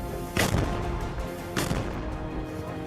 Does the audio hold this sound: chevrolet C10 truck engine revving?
no